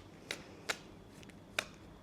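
Tarot cards being shuffled during a reading: three short, crisp riffling bursts, soft and close, spaced unevenly with quiet pauses between them.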